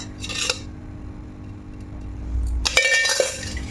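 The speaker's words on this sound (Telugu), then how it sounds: "ఇలా మూత పెట్టేసి పక్కకు పెట్టేసుకోవాలి మనం." A container of freshly set beetroot curd is handled and its lid pressed shut, giving a few close clinks and knocks after a quiet stretch of faint kitchen hum.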